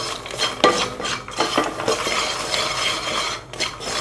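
Makhana (lotus seeds) being stirred in a pan with chaat masala and ghee, a steady close scraping and rustling with light clinks of utensil against the pan, no talk.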